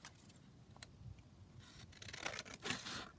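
Scissors cutting paper for a handmade junk journal, a series of crisp snips and scraping rustles that grow busier and louder toward the end, close by with no talking.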